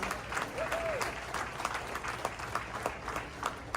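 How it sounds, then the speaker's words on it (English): A crowd applauds bugler Steve Buttleman at the Kentucky Derby, steady clapping spread across a large outdoor audience, with voices and a brief whistle mixed in. "Big round of applause."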